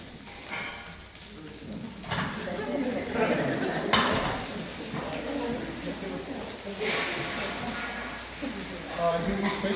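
Rice frying in a hot pan at a chef's cooking event, a continuous crackling sizzle with scraping and clattering of utensils against the pan, under a person talking throughout.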